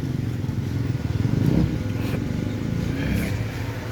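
A motorcycle engine idles and revs in a repair shop, a low steady rumble with light clatter and a few brief rises in throttle, fairly close by.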